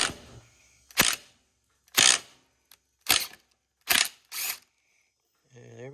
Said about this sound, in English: instead of a cheater bar, I'm going to use, if I can get a better view here, use my DeWalt impact driver